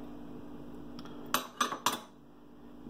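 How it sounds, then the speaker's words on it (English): Half a cup of paprika goes into a mixing bowl for a BBQ rub, heard as three quick, close metallic clinks of the container knocking against the bowl over a quiet room hum. "The second ingredient is a half a cup of paprika. So we'll dump that in."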